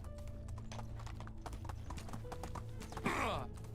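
Horse hooves galloping in Medieval Dynasty, a steady rapid clip-clop running under game music and ambient noise, with a brief louder burst near the end.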